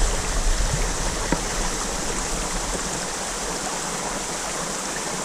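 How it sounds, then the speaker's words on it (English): Steady rushing water at a small waterfall forming a fish barrier on a cutthroat trout stream in Utah, continuous and broadband with no voices. "You can see the waterfall,"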